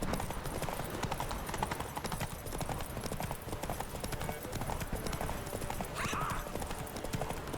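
Roach, Geralt's horse in The Witcher 3 video game, gallops in a steady, close clip-clop of hooves that runs the whole time, with game ambience around it and a brief whinny or call near the end.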